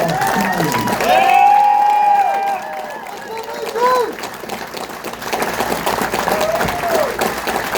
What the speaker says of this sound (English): Please give a hearty round of applause to our 2024 Outstanding American recipient, Mr. Paul Salyers.